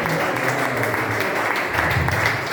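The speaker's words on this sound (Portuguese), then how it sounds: "Exalta o Senhor com as palmas nesta noite." A church congregation clapping hands during a worship service, dense continuous applause filling the whole stretch at close, loud level.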